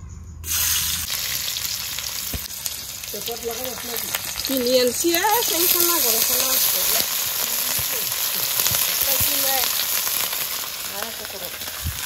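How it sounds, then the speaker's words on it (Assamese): Fish sizzles steadily in a kadai in a village kitchen, a continuous crackling hiss for the whole stretch, with soft voices talking underneath in the middle. "এইফালে মায়ে কৰিব মাছ ফ্ৰাই"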